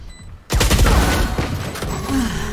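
Rapid burst of gunfire from the tactical shooter game Valorant, loud and close, beginning abruptly after a quiet moment and continuing as a dense volley that gradually thins.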